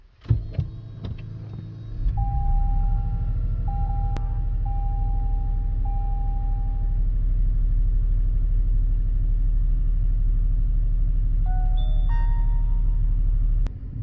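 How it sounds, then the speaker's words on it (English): A car engine cranks and catches, then settles into a steady, loud low idle that runs throughout, with a few short electronic chimes from a dash cam sounding over it. "Now let's go ahead and start up the vehicle."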